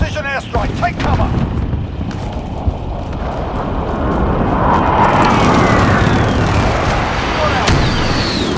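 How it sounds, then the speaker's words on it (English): Precision airstrike explosions in a first-person shooter rumble as a dense, booming roar that builds and swells over several seconds, with sharp cracks and siren-like whines on top. "Enemy precision airstrike. Take cover."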